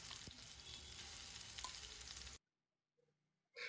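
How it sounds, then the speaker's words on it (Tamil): Mustard seeds, a sprig of curry leaves and ground paste fry in hot oil for a raw-banana stir-fry, giving a loud steady sizzle and crackle for over two seconds that cuts off to near silence, then returns briefly. "கூடவே ஒரு கொத்து கருவேப்பிலை போட்டுட்டு நம்ம அரைச்சி வச்சுருக்கிறத விழுதை வந்து நம்ம போட்டுக்கலாம்."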